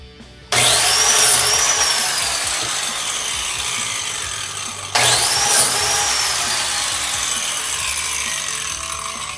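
Plunge power tool boring dowel holes into wood for a Queen Anne leg table, two loud motor bursts that spin up abruptly, each holding a steady high whine as it cuts.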